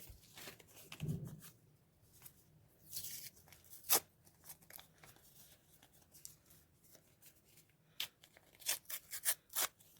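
Faint crinkling and tearing of a paper packet, with scattered sharp rustles and crunches over a quiet background.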